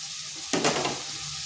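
Cut potatoes dropped into spice masala frying in oil in a kadai wok set off a sudden loud sizzle that bursts in partway through, then settles into a steady softer crackle.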